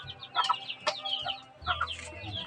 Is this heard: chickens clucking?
yes